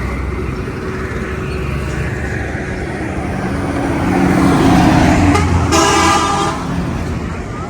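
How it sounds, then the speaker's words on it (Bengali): A train horn toots for about a second over the loud, steady rumble and bustle of Chittagong railway station. "আমরা চলে আসছি এখানে চট্টগ্রাম রেলওয়ে স্টেশনে।"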